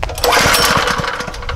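A small mini bike engine runs on its first test drive, making a rough, close, sputtering putter with uneven pulses for about a second and a half.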